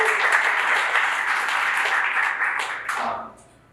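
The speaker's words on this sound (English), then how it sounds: "So maybe we can give a quick round of applause for the sponsors." An audience at a panel discussion breaks into a steady round of applause that holds strong, then thins out with a few last claps and dies away at the end.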